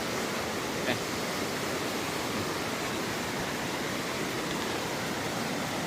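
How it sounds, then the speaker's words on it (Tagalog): Water pouring steadily into pools after rain, heard as a loud, continuous broadband rush that stays even throughout with no talking. "Nakikita ko na yung bagsakan ng tubig sa pools."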